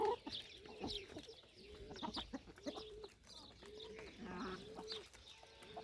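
Chickens and a rooster cluck and murmur close by in a village barnyard, with repeated short calls and a busy background of other poultry sounds.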